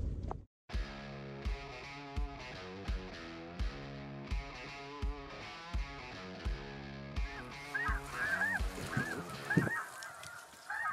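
Snow geese on migration in Canada, with a series of high, nasal honks near the end that follows a rhythmic, pulsing stretch of other sound, fairly faint overall.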